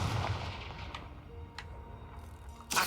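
Confringo explosion spell cast in the video game Hogwarts Legacy: a few sharp, punchy blasts crack out in quick succession, and a louder burst lands at the end, with no talking.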